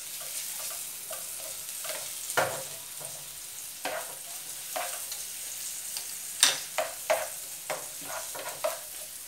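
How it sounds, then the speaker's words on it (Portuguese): Large garlic cloves frying in a pan, a quiet hiss of oil under many sharp spatula clicks and scrapes at an uneven rhythm, close and alone. "vamos fritar o nosso alho."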